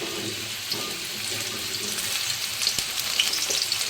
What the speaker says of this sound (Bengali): এবার আমি মাশরুমগুলো একটু ভেজে নেব